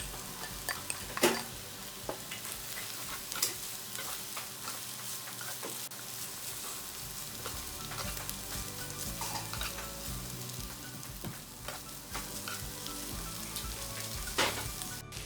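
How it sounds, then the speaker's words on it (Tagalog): Onion and shredded steamed chicken fry in a pan for chicken siopao filling, with a steady crackling sizzle close by. Intermittent scraping and tapping of a utensil stirring against the pan break through it, and no one speaks. "atin lang haluin hanggang maluto yung ating onion. Tapos, atin ilagay yung ating shredded steamed chicken"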